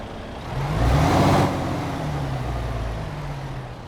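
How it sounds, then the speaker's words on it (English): A MAN TGX truck engine in Euro Truck Simulator 2 cranks and catches, surges briefly, then settles into a steady, low idling rumble. "let's go ahead and get this MAN TGX started up and get on the road"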